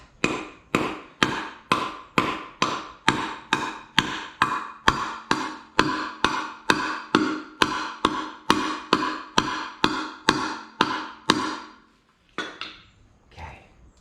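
A big heavy hammer strikes a 1965 VW Beetle hubcap clip in a steady run of about twenty-five sharp metallic blows, evenly spaced and close, followed by a couple of softer taps at the end.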